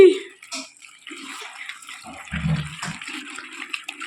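Water is poured over live crabs and splashes in a container to wash them, an irregular sloshing wash close by with a few clatters mixed in.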